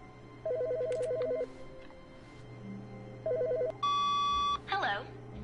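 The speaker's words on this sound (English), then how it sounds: "Phone's ringing." A telephone rings in the video game The Stanley Parable, with two short bursts of electronic trilling separated by quiet office hum, followed by a tonal beep and a brief voice.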